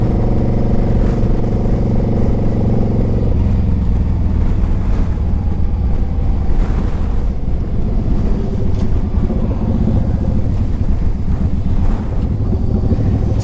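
2006 Suzuki Boulevard C50T five-speed motorcycle riding, a steady low engine drone under heavy wind buffeting. The engine note shifts partway through as the bike changes pace, with no one talking.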